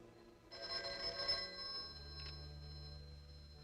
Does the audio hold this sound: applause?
no